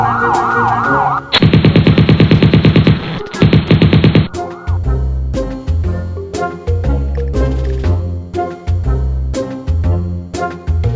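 A rapid, evenly spaced burst of gunfire aimed at pursuing police in the mobile game Indian Bike Driving 3D rattles loudly for about three seconds, followed by wailing siren tones and rhythmic game music.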